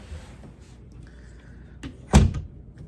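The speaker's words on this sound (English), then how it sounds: "the door will shut perfectly on its own" An interior door with a newly fitted knob swings shut by itself and closes with one solid thud near the end. Before it, only faint creaks and handling noises break a quiet room.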